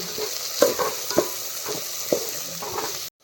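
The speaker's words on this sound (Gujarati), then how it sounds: "તેલમાં ચડવા દેવું પડે હળદર નાખી" Spices and turmeric cook in hot oil, giving a steady low sizzle with regular scraping stirs roughly every half second and a few clinks against the pan before the sound cuts off abruptly.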